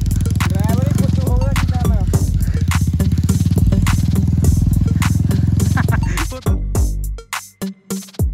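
A 110cc motorcycle rides off-road through jungle near Hoshiarpur, its engine loud and close with a rapid thumping putter and clattering, then revving unevenly and dropping off in the last seconds.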